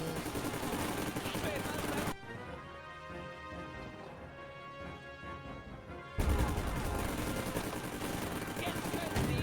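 Rattling bursts of gunfire and blasts from a video game battle with tanks and armoured forces fill the opening and closing seconds, dense and loud, with a quieter, more tonal lull in between.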